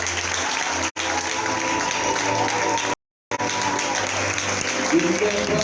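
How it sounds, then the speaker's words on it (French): A church congregation at a conference applauds and cheers for Jesus, loud, dense clapping and crowd noise that runs steadily, broken only by two brief cuts to silence. "Est-ce qu'on peut acclamer pour Jésus?"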